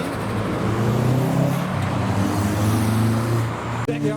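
A white Toyota Chaser pulls into a Japanese car meet in Reading, its engine droning steadily close by with rises and dips in pitch as it rolls in, then a brief drop at the end.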